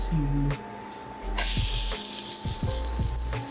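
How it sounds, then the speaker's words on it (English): Onions, minced garlic and mushrooms hitting hot olive oil and butter in a pan, a loud steady sizzling hiss that swells after a second and then holds, with faint clinks and a low hum beneath. "saute my onions and garlic that I minced up, as well as my mushrooms"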